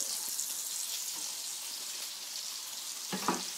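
Mushrooms fry in a hot pan, giving a steady close sizzling hiss with a brief stir or clatter near the end.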